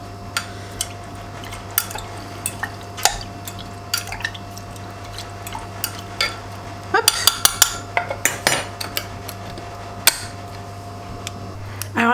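A spoon stirs a ginger bug with ginger slices in a jar, giving scattered clinks and scrapes against glass, then a denser flurry of quick knocks over a steady background hum.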